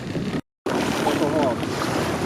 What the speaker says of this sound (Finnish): Hirveä tuuli ja hirveät aallot